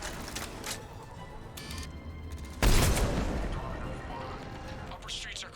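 Gunfire in the video game Mass Effect 3, with a loud burst of shots over a dense, rumbling battle soundscape that rings out and decays.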